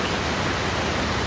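Heavy rain pours down as an unbroken, loud hiss of dense falling water, with no voices.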